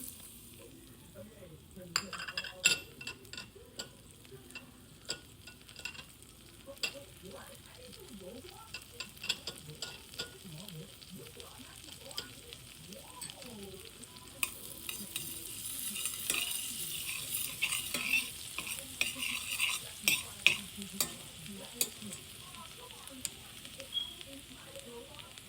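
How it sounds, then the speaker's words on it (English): Garlic frying in a pan while being stirred, a soft continuous sizzle with scraping and clattering stirs, growing louder and busier in the second half. "we're gonna let the garlic cook a little bit until you smell it"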